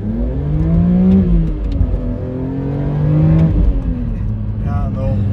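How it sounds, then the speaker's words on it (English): A car engine with individual throttle bodies revs up and down in repeated swells, its pitch climbing and falling, loud and close throughout. "how this motor revs and outputs power down"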